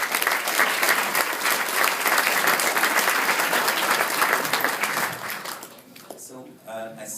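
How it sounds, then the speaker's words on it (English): A large crowd gathered for a valedictorian speech at a graduation applauds in a loud, dense, sustained round of clapping that fades out near the end, with voices briefly audible as it dies down. "let's give everyone that's here a round of applause"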